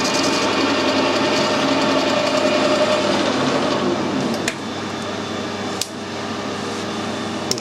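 A metal-cutting machine takes a light cleanup cut while broaching a keyway, giving a steady close whine and hum with two sharp ticks near the end.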